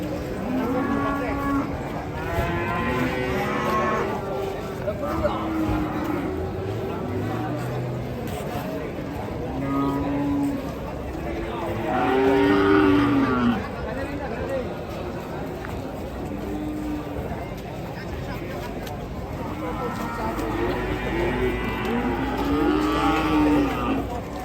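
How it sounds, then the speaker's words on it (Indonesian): An agitated cow coming off a truck moos loudly and repeatedly, its long bellows rising over a crowd of people chattering nearby. "Ngamuk sapi."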